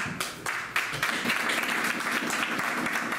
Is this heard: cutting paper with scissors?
no